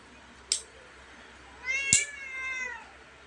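Angry cat: a short sharp yowl, then a longer, drawn-out harmonic meow rising and fading, close by against a quiet room.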